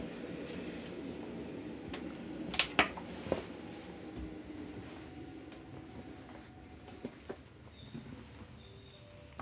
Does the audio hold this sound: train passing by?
yes